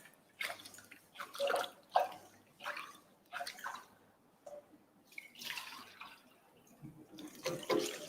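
Brown rice is washed by hand in water with added salt, giving repeated close swishing and splashing pulses with small drips between them, quiet and without talk.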